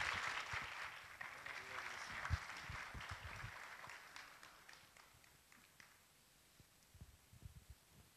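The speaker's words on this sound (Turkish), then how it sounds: "Kuvvetli alkışlarınızla Turgay Tanülkü'yü buraya davet ediyorum efendim" Audience applause welcoming Turgay Tanülkü to the stage at a live talk event, moderate at first and fading away within a few seconds, leaving quiet room noise with a few soft knocks.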